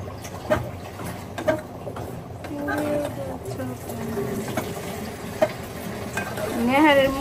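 Gram flour (besan) fries in oil in a large pot for nihari, a soft sizzle with spoon scrapes and knocks while voices talk nearby.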